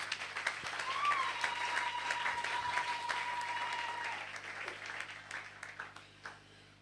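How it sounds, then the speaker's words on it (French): Church congregation applauding in a sustained burst of clapping from many hands, fairly faint and reverberant, with a brief tone and murmuring voices through it before it tapers off. "Je voudrais que quelqu'un puisse acclamer très fort la parole de Dieu."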